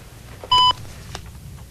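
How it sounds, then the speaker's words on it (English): A single short keypad beep from a phone mail voice mail system, the pound key pressed once, a clean steady tone over a low background hum, with a few faint clicks afterward. "Phone mail is waiting for you to press pound to show that you've finished entering that extension"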